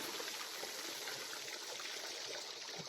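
Water trickles and streams at a reservoir water source along a hiking trail, a faint, steady wash of flowing water heard alone for about three seconds with no voices.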